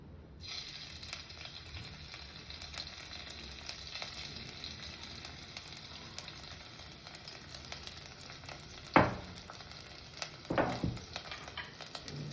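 Food fries in a pan with a steady soft sizzle, punctuated by a few louder scraping clanks of a utensil against the pan near the end; no talking.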